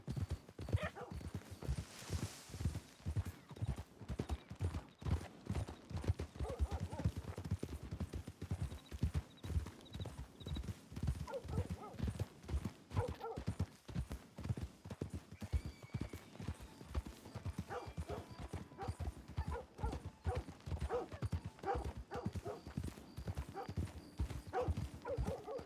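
Horses in the video game Red Dead Redemption 2 clip-clop steadily and continuously, a dense run of hoof strikes, close and fairly loud, with faint talk and occasional background sounds underneath.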